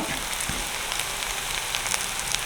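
Fenugreek seeds sizzle steadily in a small amount of hot oil for a village-style curry, a soft continuous crackle with no voices.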